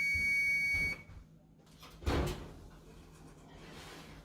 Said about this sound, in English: as you can hear, the timer is going off, so I'm going to get it out of the oven